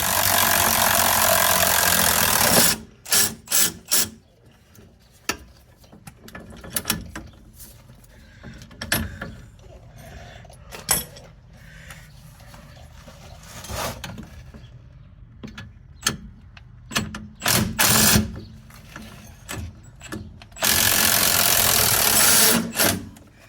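Strut bolts being backed out with a power tool during a lift kit install, heard as loud bursts of rattling, buzzing impact at the start and end, with intermittent clanks and mechanical clicks in between.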